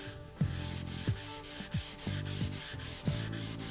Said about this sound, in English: taking our abrasive pad that's on our handset, let's work back these scratches now to feather them in